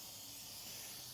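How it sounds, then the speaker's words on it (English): Brake cleaner sprayed onto a brake rotor during a big brake kit install on an 8th gen Honda Civic Si, a faint, brief continuous hiss. "Spray her down with a little bit of that brake clean."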